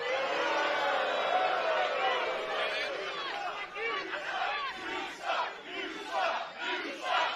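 A dense arena crowd at an Impact Wrestling event in Chicago roars and boos a heel wrestler, loud and sustained throughout, with the noise swelling and pulsing in waves toward the end.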